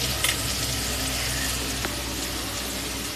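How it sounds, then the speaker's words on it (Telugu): Ginger garlic paste sizzles in hot oil tempering for a fish curry. The frying is a constant, dense hiss close to the pan, with one brief clink partway through and no one speaking. "పేస్ట్ అంతా తాలింపులో అయితే వేసాను"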